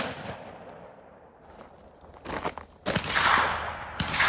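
Rapid rifle shots from an Aero Precision 11.5-inch ATLAS M4E1 upper crack out in a quick, uneven string of sharp reports, loud and close, with ringing tails between shots and no talking.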